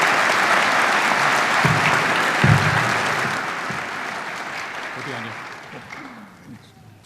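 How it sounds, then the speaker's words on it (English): An audience at a judicial investiture ceremony applauds. Dense, steady clapping fills the room and then slowly tapers off, with a few voices murmuring underneath as it fades. "I'd like a nice round of applause for all of these very special people."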